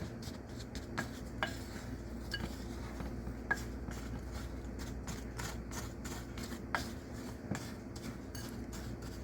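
A spoon scrapes and clinks around a bowl while brown sugar and black walnuts are stirred, giving light, irregular taps and a soft gritty rustle that continue throughout, close by and fairly quiet.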